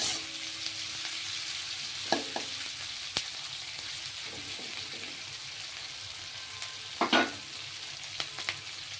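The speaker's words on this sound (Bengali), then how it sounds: "এই পেঁয়াজটা একটু ভেজে নেব।" Chopped onion frying in oil gives a soft, steady sizzle, with occasional clicks and scrapes of stirring in the pan.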